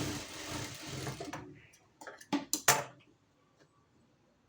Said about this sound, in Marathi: तर आता ह्याच्यावरून आपल्याला दाब टीप मारून घ्यायची आहे.